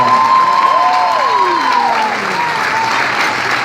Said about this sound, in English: Let's give him a big round of applause, everyone.